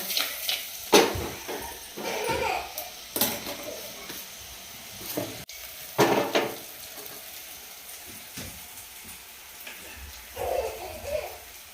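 Buttermilk poured into a pan of sizzling tempered roti with peanuts, giving repeated bursts of hissing sizzle and stirring that rise and fade over a low background.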